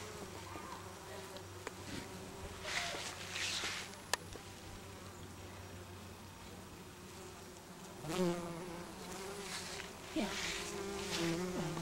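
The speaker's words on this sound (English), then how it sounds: "All this lavender is covered" Bees swarm over lavender in a sunny garden, a soft continuous buzzing that swells and fades as individual insects drift closer, faint and steady throughout.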